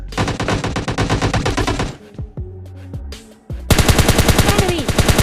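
Rapid automatic gunfire rattles loudly in PUBG Mobile Lite, a long burst, a short lull with a few scattered shots, then another sustained volley.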